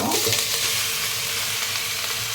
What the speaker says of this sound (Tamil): இப்போ நம்ம வந்து சிக்கன் சேர்த்துக்கலாம்.